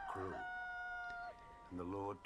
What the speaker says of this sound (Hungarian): Még beszélt, amikor hirtelen megszólalt a kakas.